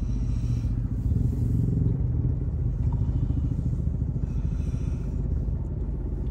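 Motorcycle engines rumble steadily along an expressway, a continuous low drone with clattering texture from traffic passing nearby, no voices heard.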